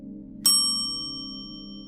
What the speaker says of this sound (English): The temple bell rings, the sound fades, the silence remains.